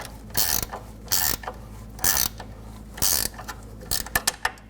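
A long wrench ratchets shock absorber bolts tight on a 2002-2005 Ford Explorer, close clicking bursts repeating about five times in a steady rhythm, with no talk.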